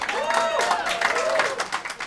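A comedy club audience at a stand-up show applauds and cheers in a dense, continuous burst while a host's voice carries over the top.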